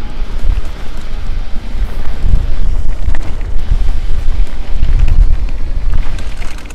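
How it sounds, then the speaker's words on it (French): Strong, gusty, cold wind in open fields roaring and buffeting the microphone continuously during a mountain bike ride, with low rumbling surges and no voices. "Oh le vent, il est froid."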